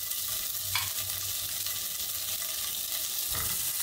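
Homemade beer bratwurst sausages sizzle steadily in a very hot skillet, a continuous close frying hiss with a couple of brief clatters as they shift in the pan.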